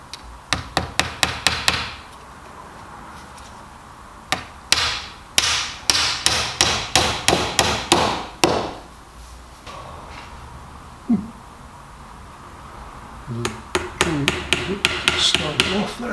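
Nails driven into edge trim on a workbench, struck hard and close in quick rhythmic runs of blows with short pauses between sets, and a faint voice in a quiet gap.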